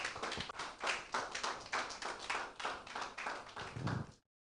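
An audience claps steadily for several seconds, a dense spread of hand claps that stops abruptly.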